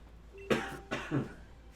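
Two short, close coughs from a man with a cold and stuffiness, a little more than half a second apart, over a quiet room hum.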